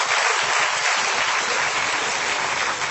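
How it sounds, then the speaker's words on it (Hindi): Loud, sustained applause from a live audience at a Hindi comedy poetry (kavi sammelan) show, dense clapping filling the whole stretch without pause. "एक बार ताली बजाइए जोरदार आप"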